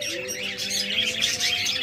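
A pair of lovebirds chirps in quick, bright, overlapping calls close by, a continuous busy twittering with no talk over it.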